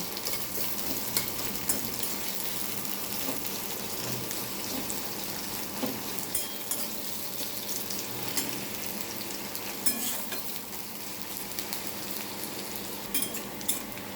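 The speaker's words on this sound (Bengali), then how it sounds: "পেঁয়াজ কুচি একটু লাল লাল করে ভেজে নেব।" Chopped onion fries in a pan for greens, a continuous bright sizzle with occasional stirring scrapes and small pops, steady and close with no talking.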